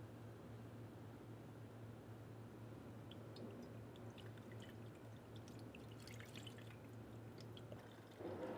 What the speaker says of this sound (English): use the bottom one to pour the fluid into the new reservoir